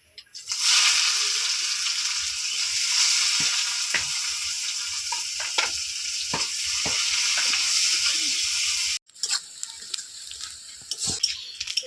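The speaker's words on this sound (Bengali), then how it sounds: "পেঁয়াজটা হালকা লাল করে ভেজে নিয়েছি" Chopped onions fry in hot oil with a loud, dense, continuous sizzle and occasional spoon scrapes. The sizzle cuts off abruptly near the end, leaving quieter stirring clatter.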